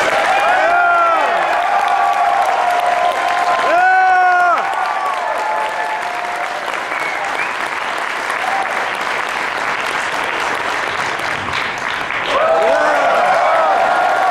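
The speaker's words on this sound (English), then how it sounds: "Give him a big round of applause." A convention panel audience at Emerald City Comic Con applauds voice actor Kevin Conroy, known as Batman, with loud sustained clapping and cheering from a large crowd, with whoops and voices rising over it at the start and end.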